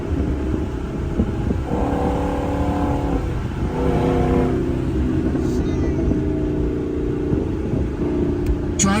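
Ford Mustang GT driving at night, its engine giving a steady, loud rumble that swells briefly as it revs, heard alone without talk.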